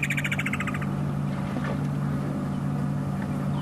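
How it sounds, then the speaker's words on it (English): Wattled starlings call in a flurry of bright chirps during the first second at a man-made pan on a safari, over a steady low engine drone that persists throughout. "A whole lot more flying through here. And yeah, called wattled starlings."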